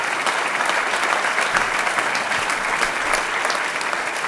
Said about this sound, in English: everyone in this room who has ever cut a class should give Teddy a round of applause